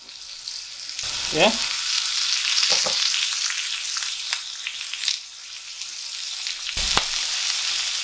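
A Chinese pork stir-fry with sliced ginger and spring onion sizzles in a hot pan with a continuous close hiss, broken by a few sharp clinks and scrapes. A voice murmurs briefly.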